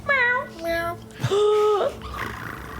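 A person imitates a cat meowing from inside a tent during a tabletop role-playing game, giving a few short mews followed by a longer drawn-out meow, close and fairly quiet, with other voices faintly around it.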